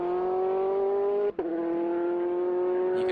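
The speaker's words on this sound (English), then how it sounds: "you can hear from the sound of that car" A 2005 Audi LMP sports prototype race car sweeps past on a road course, its steady high-pitched engine note held loud and close, with a brief sharp dip as it passes, then continuing at a similar pitch.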